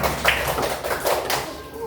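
A group in a classroom claps hands briefly, a short burst of scattered taps and claps lasting under two seconds, with background voices.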